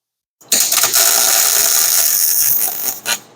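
Arc welding on a crack gives a loud, steady, sizzling crackle that starts abruptly, holds for about two and a half seconds, then sputters briefly and stops.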